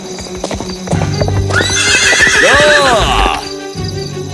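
A horse on a wet town street: hooves clop close by, then a loud, rising and falling whinny rings out midway before the clopping settles again.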